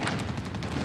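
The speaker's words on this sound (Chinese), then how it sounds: "我听到的到处都是枪声。" Gunfire in a Chinese historical TV drama about the 1911 Xinhai Revolution, a dense, continuous crackle of distant rifle shots and fusillade from fighting around the burning viceroy's yamen, steady throughout.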